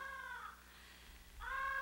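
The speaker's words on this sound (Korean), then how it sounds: "웬 때아닌 까마귀 소리랴" A crow caws twice in a quiet rural setting, two harsh calls separated by a brief pause, fairly close and clear over low background hum.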